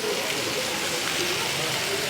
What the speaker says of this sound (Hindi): देखिए फाउंटेन को बोलते हैं बिन बादल बरसात, विदाउट क्लाउड रेन।